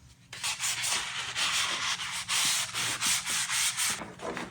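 Hand sanding of rusty car brakes with 180 grit sandpaper, a close, rhythmic rasping scrape in repeated strokes of about half a second each, loud and alone.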